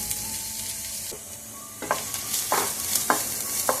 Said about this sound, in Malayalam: നമുക്ക് അല്പം വെളിച്ചെണ്ണ ഒഴിച്ചു എണ്ണ ചൂടാകുമ്പോൾ നമുക്ക് സവാള ഇട്ട് കൊടുക്കാം